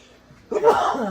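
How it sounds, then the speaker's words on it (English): One sharp sneeze set off by spice while seasoning chicken, close and loud, breaking out suddenly after a short quiet lead-in. "it's a spice causing me for sneezing"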